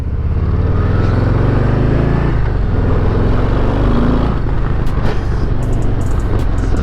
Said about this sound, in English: Nice running bike.